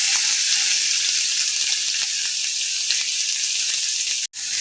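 Mustard seeds, cumin, curry leaves and garlic paste sizzle loudly in hot oil, a constant close hiss with small crackles that cuts off abruptly near the end.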